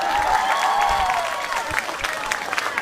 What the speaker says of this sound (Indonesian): Tepuk tangan buat tukang son